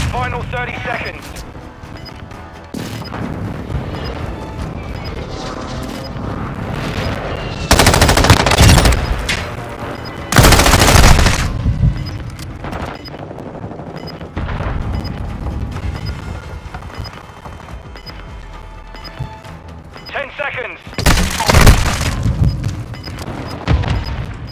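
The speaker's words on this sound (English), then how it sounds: "Enemy precision airstrike." In Call of Duty Warzone, a precision airstrike sets off several loud, sharp explosive blasts spaced several seconds apart, over a continuous rattle of machine-gun fire and battle noise, with voices talking underneath.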